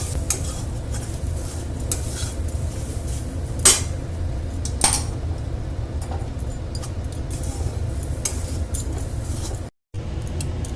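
Coconut roasting in a dry hot wok, a spoon scraping and stirring in steady strokes with a couple of sharper metal knocks and a faint sizzle, no talking.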